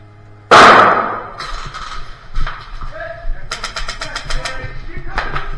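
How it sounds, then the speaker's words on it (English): A grenade blast during an outdoor combat game goes off as one loud, sharp burst, followed by scattered pops and crackles while voices shout and talk nearby. "Hey, hit the dirt. We're throwing a grenade."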